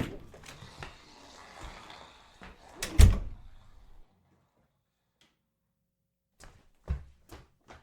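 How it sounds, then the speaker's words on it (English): Door opening in an interior scene, with rustling footsteps, a loud knock or latch thud at mid-clip, then a quiet pause before a few more soft clicks and bumps. "Here, I'll get the door for you."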